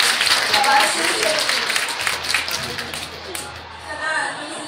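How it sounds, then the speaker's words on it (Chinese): Guests at a wedding banquet clap together as a steady patter of applause that fades in the middle and then swells again briefly, with talk over it. "掌声鼓励，最大的诚意，谢谢。"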